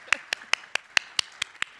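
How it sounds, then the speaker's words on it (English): Eight evenly spaced claps ring out alone at a university celebration of 55 years of Black studies, each a crisp, isolated smack with quiet gaps between. "Cue applause."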